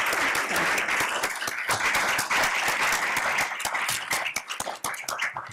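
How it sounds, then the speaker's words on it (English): Audience at a board meeting breaks into a steady round of crisp clapping, close and continuous, thinning a little toward the end. "if we can give them a round of applause for all of the applause they give us."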